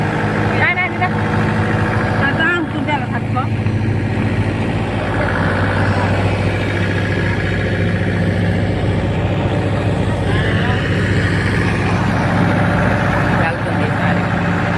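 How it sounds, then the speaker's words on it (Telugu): A tractor strains in sand during a black gram harvest on a farm field. Its engine drones loud and steady throughout, with voices talking over it. "ట్రాక్టర్ మళ్ళీ ఇరుక్కుంది,"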